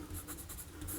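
Parker Vector XL fountain pen with a medium nib writing on paper with Pelikan 4001 dark green ink, close, soft rhythmic scratching strokes repeating for about a second.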